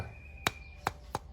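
Three crisp taps on an acrylic lens, close and clear, spaced apart with brief silences in between.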